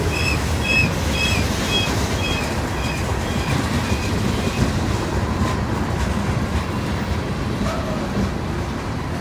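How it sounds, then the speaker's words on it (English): A loaded freight train carrying grain, railroad ties and rock rolls past a crossing, with a steady, loud rumble and wheel clatter that fills the whole stretch and brief high squeals near the start. "First loaded train of the week on a Tuesday"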